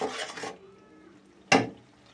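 A spoon scrapes and clatters once against a pot of chicken curry, a single sharp close knock after a brief spell of soft cooking noise.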